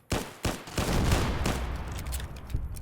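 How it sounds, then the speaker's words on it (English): A jury-rigged Tesla cannon fires in the Fallout New Vegas video game, producing a series of loud, close, crackling blasts that merge into a dense, roaring burst of energy. "That is a jury-rigged Tesla cannon."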